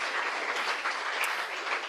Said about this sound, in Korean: 박수 한 번만 부탁할게요.